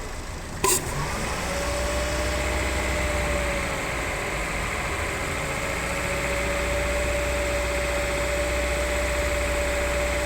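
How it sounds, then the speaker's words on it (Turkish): Motorcycle engine held at about 2000 rpm, a steady close droning hum with a thin constant whine and a single sharp click near the start. "Gaz ver 2000 devir."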